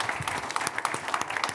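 An audience at an Oxford-style debate applauds in a short, moderately loud burst of scattered clapping that fills the room.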